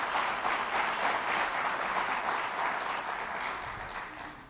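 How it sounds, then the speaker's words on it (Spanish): A church congregation breaks into sustained, dense applause that fills the room evenly before slowly tapering off, with no talking over it. "Dale un aplauso al Señor."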